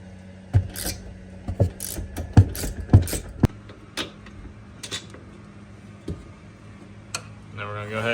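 A ratchet wrench loosens the upper shock bolts on a Honda Rubicon or Rancher ATV during an IRS bracket lift install, giving several close, sharp bursts of ratcheting clicks separated by short pauses in a quiet garage.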